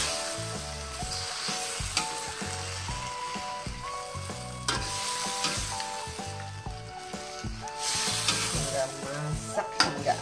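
Shrimp being stirred in a pan of sizzling sauce, a steady crackling sizzle with soft scraping stirs, heard under music.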